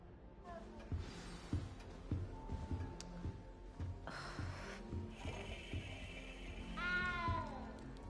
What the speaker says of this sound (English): I'd better go make sure the first year's caught that cat